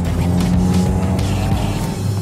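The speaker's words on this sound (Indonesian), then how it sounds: "Suara knalpotnya racing, tapi sebelumnya nggak enak banget gitu" Motorcycle engine fitted with a racing exhaust, revving loudly and close, with a strong droning tone that rises and falls over a couple of seconds.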